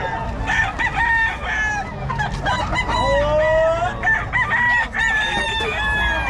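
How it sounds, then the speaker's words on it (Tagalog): Roosters crow repeatedly at a rooster buyers' gathering in Bocaue, Philippines, over a busy, noisy background, with clucking mixed in and a faint voice or two underneath. "Manok siguro."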